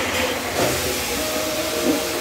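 Shredded cabbage frying in a pan for a Bengali-style cabbage fry, giving a steady, close, broadband sizzling hiss that holds throughout with small swells.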